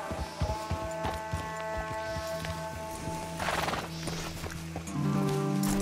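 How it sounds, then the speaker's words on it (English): Horses move along a road in the Red Dead Redemption 2 video game, with steady hoof clip-clops, a nearby neigh, and a humming background drone. "Let's leave the horses off the road to the right here."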